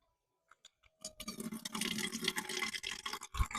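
Water runs from the tap of a homemade portable camp sink, starting after a few small clicks and then pouring steadily and close, splashing as it drains.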